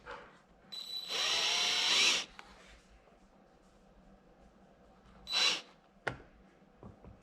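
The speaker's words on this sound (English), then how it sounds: "we should be able to just go through and drill right on our marks" A power drill bores holes for pod light mounts on a Jeep Cherokee pillar, with a whining burst of about a second, a shorter second burst, a sharp click, and quiet shuffling between.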